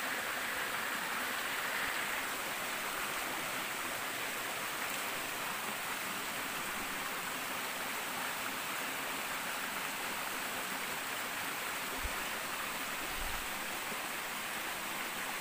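Rushing water from a river stream or waterfall near Magarang Falls, a constant dense hiss and roar heard up close, steady throughout with no voices.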